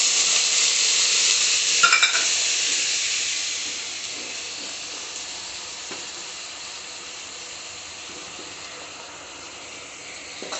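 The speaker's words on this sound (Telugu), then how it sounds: "అదే కడాయిలో ఆయిల్ అంతా తీసేసి కొంచెం ఆయిల్ పెట్టుకొని ఇందులోనే ఆనియన్స్, ఒక కప్పు ఆనియన్స్," A cup of onions frying in a little oil in a kadai on a low stove, giving a steady close sizzle and hiss that is loudest at first and settles to a softer even crackle, with no talking.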